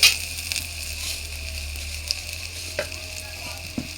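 Bay leaves fry in a small amount of oil in a pan, giving a continuous close hiss and sizzle with a few soft clicks and crackles scattered through it.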